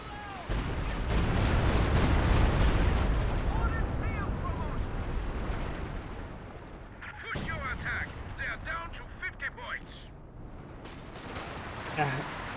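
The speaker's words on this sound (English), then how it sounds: "got heavy mortar barrage there from the artillery officer" A heavy mortar barrage in Company of Heroes 2 fires off a dense run of booming impacts and crackling blasts, loudest early on and then thinning into scattered bursts, with a commentator talking throughout.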